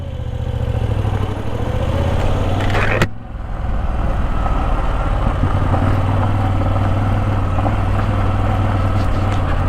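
An air-cooled Moto Guzzi V85TT motorcycle rumbles loudly and close up as it rides off on gravel, with a steady deep engine drone and a brief dip in the middle.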